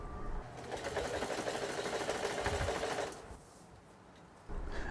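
Sewing machine stitching leather, a rapid mechanical chatter of the needle for about three seconds, then stopping to a quiet hum before a faint restart.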